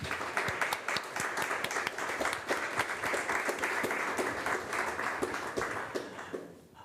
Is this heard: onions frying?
no